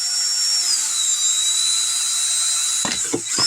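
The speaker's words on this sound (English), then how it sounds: "So I'm just going to be using this oscillating tool right here" Oscillating multi-tool buzzing steadily at a high pitch, loud and close, as it cuts into a battery casing, then short sputtering bursts as the blade is lifted and pressed back in near the end.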